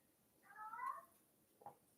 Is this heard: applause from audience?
no